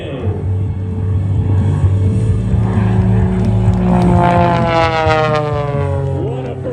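An aerobatic propeller plane dives in for its final pass at the Moses Lake Airshow, engine roar swelling loud and then falling in pitch as it sweeps past, with a commentator talking over it.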